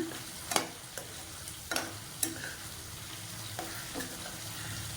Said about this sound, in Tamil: இப்போ இதில் வந்து சிக்கன் வந்து சேர்த்துடலாம். சேர்த்துட்டு நல்லா கிளறி விட்டுக்கோங்க.